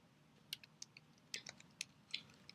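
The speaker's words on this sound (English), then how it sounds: "I'm actually typing this" Sparse, faint clicks of keys tapped on a computer keyboard, a handful of irregular keystrokes close by in a quiet room.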